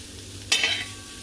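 Cauliflower pieces are stirred with masala on a hot tawa, a quick scraping stir over a soft sizzle that fades within a moment.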